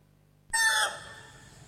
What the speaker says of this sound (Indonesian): tiba-tiba ada seekor ayam berkokok